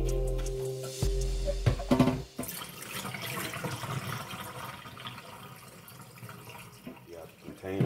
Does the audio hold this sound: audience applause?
no